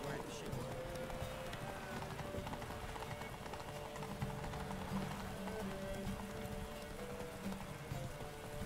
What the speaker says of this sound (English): I hate how the horse doesn't start at all.